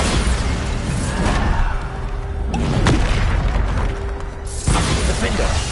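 Bombarda spell explosions in a PS5 video game, with heavy booms and whooshing blasts rolling one into the next in a loud, dense barrage.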